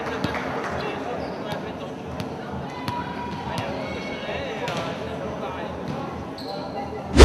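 Volleyball bouncing during a night volleyball event at Rosny-sur-Seine in an indoor hall, with repeated sharp thumps over a steady crowd murmur and people talking throughout.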